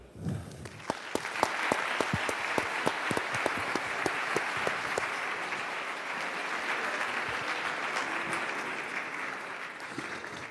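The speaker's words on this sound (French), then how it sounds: "Je vous demande d'applaudir les Antigones, Mathilde Gibelin, Anne Trobly." Sustained audience applause at a round-table conference session, steady dense clapping filling the room for about ten seconds with a few sharper individual claps standing out early on.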